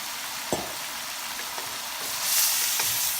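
Fried fish balls are stirred in a sizzling frying pan with a constant hiss. A few distinct spatula scrapes and knocks sound close by, and the sizzle swells slightly near the end. No one speaks.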